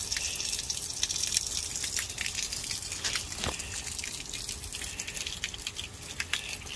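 Water flows into the resin tank of a DI filter system, a steady hiss and trickle with scattered drips, close by and without talk.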